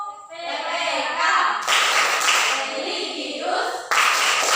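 A class of children does a rhythmic clapping routine, the Tepuk PPK, with bursts of claps and chanted voices across the clip.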